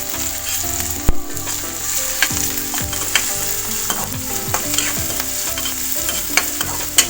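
Garlic fries in hot oil in a pan with chili and ginger for an aloo paratha filling. A continuous close sizzle is broken by repeated scraping and clinking stirs with no talking.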